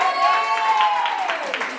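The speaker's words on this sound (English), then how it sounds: "Let's give her a round of applause" Party guests at a sweet sixteen celebration clap and cheer together, a steady burst of applause with high excited voices whooping over it, fading slightly toward the end.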